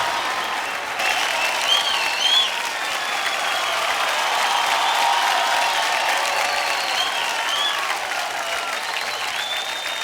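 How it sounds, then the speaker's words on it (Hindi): Sustained applause from a large awards-show audience honoring the winners, dense steady clapping filling the hall with a few scattered cheers, continuing loudly throughout. "एक बार जोरदार तालियां for all the winners"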